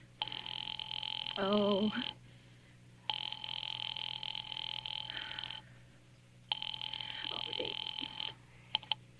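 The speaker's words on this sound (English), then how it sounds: "Ringing the police department." An old-fashioned telephone rings in three long, buzzing bursts separated by short pauses in a 1943 old-time radio mystery drama, with a brief spoken exclamation heard during the first ring.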